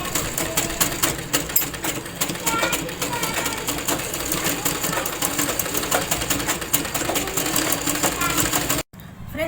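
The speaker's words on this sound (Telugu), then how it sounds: "ఇప్పుడు నేను మిషన్ మీదకి మీకు చూపిస్తాను ఎలా కుట్టుకోవాలనేది" A sewing machine stitches a homemade colorful door mat from scrap cloth, its rapid mechanical clatter running loud and continuous before stopping abruptly near the end, with a voice talking over it.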